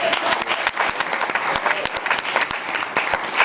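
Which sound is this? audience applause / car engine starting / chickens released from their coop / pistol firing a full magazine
audience applause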